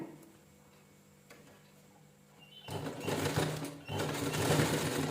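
A sewing machine starts stitching piping onto a blouse after a quiet pause, a close, loud, continuous mechanical whirr that breaks off briefly before running on again.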